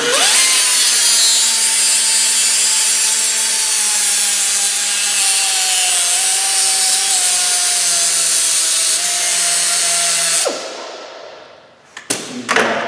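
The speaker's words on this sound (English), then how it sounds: "I'm cutting this one off." A loud, steady high-pitched grinding whine as a cutting tool bites into a metal Toyota wheel bearing for about ten seconds, then stops, followed by a few clanks.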